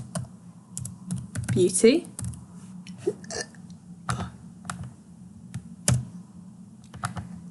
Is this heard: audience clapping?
no